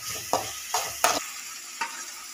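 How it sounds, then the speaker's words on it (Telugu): Onion and tomato pieces fry in a pan under a soft sizzle, punctuated by four quick spatula scrapes and knocks spaced roughly a third of a second apart, then quieter. "రెండింటిని కదుపుకుంటూ వేయించుకుంటున్నాం."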